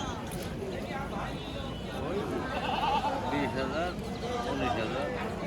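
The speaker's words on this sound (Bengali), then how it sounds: "এই একটা পাঠা দেখেন।" A goat bleats amid the crowd at the Tebaria goat market in Natore, its wavering cry rising briefly over constant nearby chatter and market bustle.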